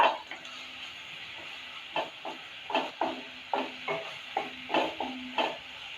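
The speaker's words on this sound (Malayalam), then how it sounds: "ഇത് നല്ലോണം ഫ്രൈ ആക്കി എടുക്കാം" Crushed masala hitting hot oil in a pan for a prawn roast, with a steady sizzle broken by repeated scraping stirs at an even rhythm, fairly close and without any talk.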